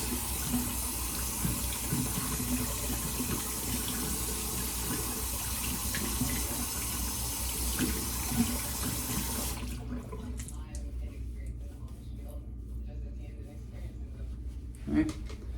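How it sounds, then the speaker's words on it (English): Running tap water rinsing a shaving brush in a sink, a steady close rush of water for about ten seconds that then cuts off, leaving faint handling clicks in near quiet. "Now I'm going to rinse out the brush."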